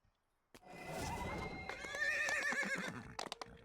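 A horse in a video game lets out a loud, drawn-out whinny that rises and wavers. A few sharp hoof clops follow near the end.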